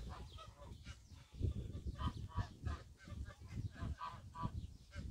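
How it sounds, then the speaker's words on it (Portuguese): Geese honk repeatedly in a noisy, overlapping chorus, fairly close, with harsh calls rising and falling throughout. "eu vi os gansos ali correndo, voando"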